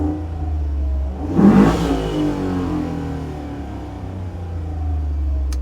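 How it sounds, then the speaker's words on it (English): An LT1 V8 in a restored 1972 Chevy K5 Blazer idles with a deep rumble, then a single sharp rev swells and falls back to a steady idle, heard up close with no talking. "let's fire up that LT1 V8"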